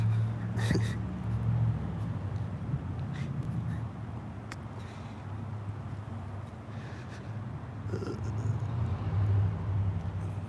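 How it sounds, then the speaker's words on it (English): Low, rumbling car engine noise in the distance at a car show, swelling and fading over a steady background hum with occasional faint clatter. "I hear these engine sounds."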